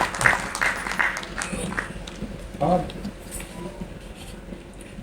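Audience at a political party's national convention in Mumbai breaking into loud, sustained applause, with claps and cheers rising and falling over several seconds alongside an amplified voice.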